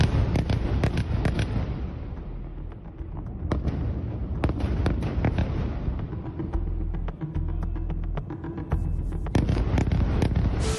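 A dense barrage of explosions and blasts during a night of violent Israeli-Palestinian clashes, sharp cracks and heavy booms following one another without pause over a continuous low rumble, with no voices heard.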